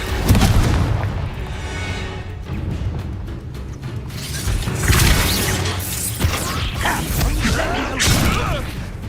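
A Confringo fire spell bursting in Hogwarts Legacy, heavy booming blasts and crashing impacts rolling through a busy, loud battle with mechanical clatter and creaks throughout.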